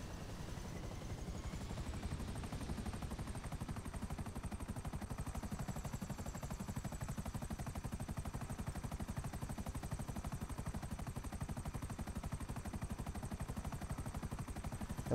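A helicopter in GTA 5 Online, its rotor chopping in a fast steady rhythm throughout. Faint and constant, with a thin high whine on top and no voices.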